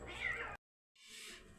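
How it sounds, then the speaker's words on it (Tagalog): Cats fighting and meowing, with a loud, wavering cry, a sudden gap of silence, then another sustained yowl close by. "Ayan, may nag-aaway na pusa,"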